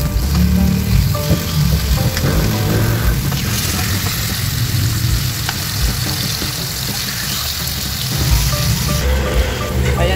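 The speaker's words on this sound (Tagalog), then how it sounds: "mainit na yung ating mantika. Kaya ilalagay na natin itong mga pork." Pork liempo frying in hot oil, a dense, steady sizzle and crackle running close and loud throughout, with no talk over it.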